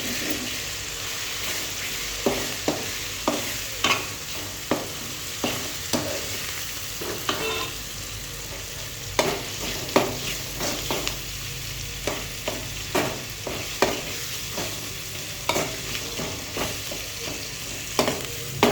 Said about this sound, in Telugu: పసుపు వేసుకొని బాగా కలుపుకోవాలి.